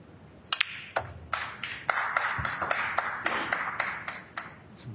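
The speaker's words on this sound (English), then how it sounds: "Some of the crowd, I think, applauding the 100 on the ball" A snooker crowd at the World Masters of Snooker 2024 quarter-final gives scattered, light applause for a century break. The claps sound as sharp, uneven taps over soft arena ambience, with no talk.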